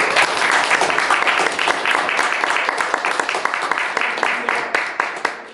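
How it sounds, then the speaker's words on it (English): A meetup audience and panel applauding together, a dense, steady clapping that fills the room for several seconds at close range, with some voices mixed in. "I would like to applaud the whole audience."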